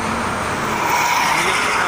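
Heavy truck traffic on the Jakarta-Cikampek toll road near a rest area, a loud, dense, continuous roar of engines and tires without breaks or voices.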